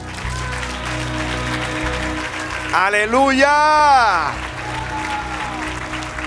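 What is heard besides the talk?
congregation applause in church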